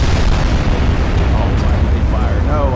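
Naval guns firing in Ultimate Admiral: Dreadnoughts, a dense, loud, continuous roar of heavy blasts and rumbling booms running through the whole stretch with no pause.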